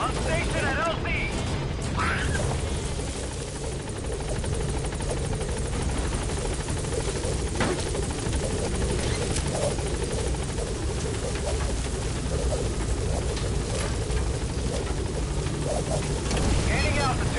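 A military helicopter in Metal Gear Solid V takes off and departs, its rotor and engine drone steady and loud throughout with mechanical rattles, while radio-style voices talk over it.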